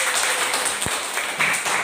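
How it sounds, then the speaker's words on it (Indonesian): In a junior high school classroom, students clap for a presentation group, a thin patter of hands with one sharper knock partway through. "tepuk tangan untuk kelompok 1"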